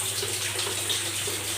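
Water from a hose runs steadily over a Panasonic 1HP air conditioner indoor unit cover in a bathroom, a continuous broadband splashing rush with no talk over it.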